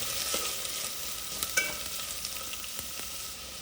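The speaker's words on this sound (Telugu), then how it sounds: "ఆనియన్స్ వేసుకున్న తర్వాత ఈ విధంగా ఒకసారి అయితే కలుపుకోండి" Onions frying in oil in a pan for egg curry, a steady soft sizzle with a few light spoon scrapes and clinks as they are stirred.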